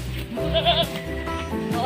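A goat on a farm lets out a loud, wavering bleat close by, its voice rising and falling, with a second shorter bleat near the end.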